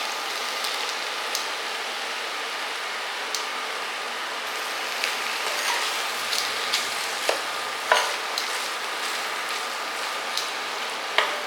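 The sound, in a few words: brinjal (eggplant) frying in a pan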